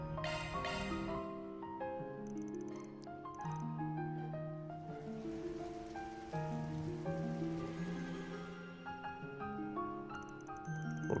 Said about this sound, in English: Looks like it's raining out.